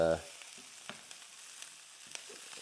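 Vegetables for Thai panang curry sauté quietly in a pan, giving a soft, steady background sizzle with a few faint clicks of stirring.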